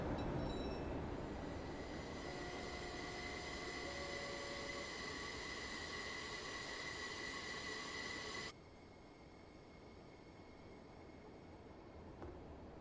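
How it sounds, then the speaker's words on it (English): A train in Train Simulator Classic rolls along with a continuous rumble and high, sustained wheel squeal tones that shift in pitch, then the squeal abruptly drops away partway through, leaving a quieter steady running noise. "With our squealy wheeled train."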